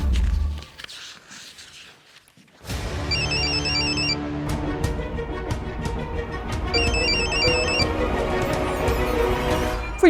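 Telephone ringing in a tense household scene, its repeated electronic trill bursts coming in two clear groups over a busy, dramatic background score.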